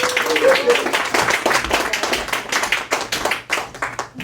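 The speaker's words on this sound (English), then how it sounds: "All right, one more round of applause." A small audience claps at an open mic night for local authors and poets in a bookshop, with distinct individual hand claps close by and a voice briefly heard near the start.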